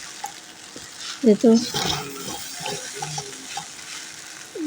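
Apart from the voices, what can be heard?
stirring noodles with spice mix in a pan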